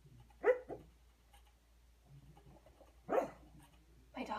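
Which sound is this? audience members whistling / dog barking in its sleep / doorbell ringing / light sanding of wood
dog barking in its sleep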